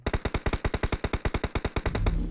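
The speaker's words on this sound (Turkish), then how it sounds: "Abi o adam uzaktaki adam vuruyor bu arada Mert bize." Rapid burst of automatic gunfire from an enemy in PUBG Mobile, about twenty evenly spaced loud shots over two seconds, ending in a rumbling tail.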